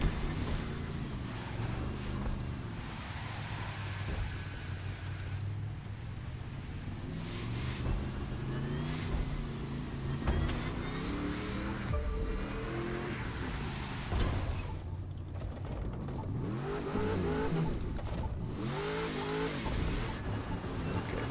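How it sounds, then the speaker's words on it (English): Drag car engine in The Crew 2 on a street race, droning continuously with repeated rises and dips in pitch as gears shift, loud and near throughout, with a brief lull midway before revving up again. "I'm in a drag car, need manual gears,"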